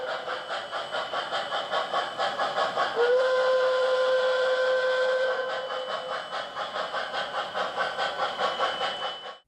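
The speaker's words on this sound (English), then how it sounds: "This C&O Shay has one of the coolest whistles of any of the engines I owned." Model C&O Shay steam locomotive running with a steady rhythmic chuff, then a single long, clear steam whistle blast lasting a few seconds before the chuffing continues alone.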